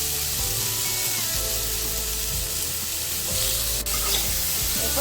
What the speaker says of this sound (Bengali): আমরা আলুগুলোকে হালকা ভেজে নেব